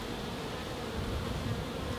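Honey bees buzz at a hive feeder filled with sugar syrup, a steady, close insect drone with no talk over it.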